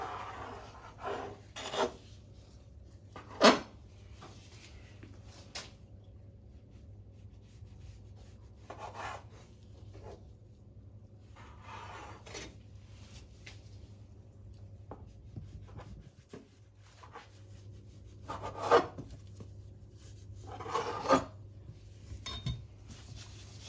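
Bun dough for sweet potato sugar buns is rolled into a rectangle with a rolling pin: soft, dull rubbing and rolling strokes with occasional light knocks, close by and fairly quiet, with no talking.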